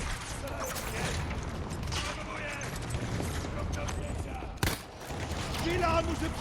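Gunfire in the shooter game Battlefield 2042, with one sharp, loud shot cracking out amid a steady bed of game noise and mechanical clatter.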